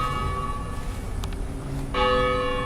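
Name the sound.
church bell tower ringing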